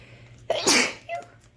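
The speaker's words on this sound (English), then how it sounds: "I sneeze a lot." A single sharp sneeze, close and fairly loud, with a short breathy intake before it and a faint trailing sound after.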